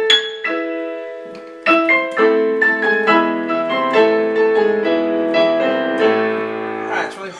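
Solo piano plays the opening of Grieg's Piano Concerto, with loud struck chords followed by a run of ringing notes up and down the keyboard. It is close and clear, with no talking.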